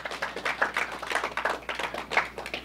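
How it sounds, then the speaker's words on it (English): Scattered hand claps from a conference audience at a security event, a light, uneven patter rising and falling over a few seconds, fairly quiet and without a full roar. "give him a applause, a great leader back there."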